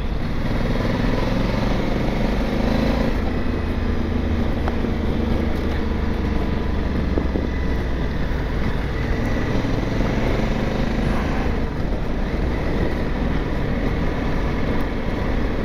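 Steady engine drone of a 2023 Honda Africa Twin motorcycle heard while riding, constant rumble with wind noise and no clear pauses.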